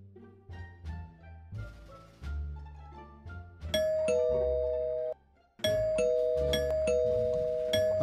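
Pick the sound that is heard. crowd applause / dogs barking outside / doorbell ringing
doorbell ringing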